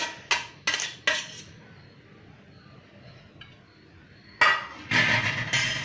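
Pav bhaji being mixed with fresh cream and coriander in a pan, sharp metallic clanks and scrapes of a utensil against the pan in short bursts separated by quieter pauses.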